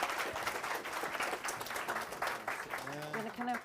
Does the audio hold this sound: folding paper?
no